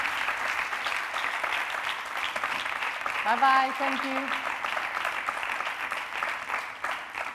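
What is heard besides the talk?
audience applause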